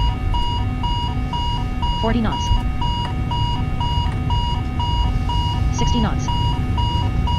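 Steady electronic beeping in a Boeing 777 cockpit during takeoff in Microsoft Flight Simulator 2020, a repeating regular pattern of tones running throughout over engine rumble, with a voice calling out speeds over it.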